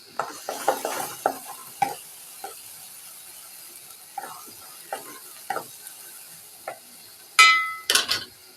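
Cashew and poppy seed spice paste fries in a pan while being stirred, with scattered scraping and clicking of a spoon against the pan over a faint sizzle and a louder clatter near the end.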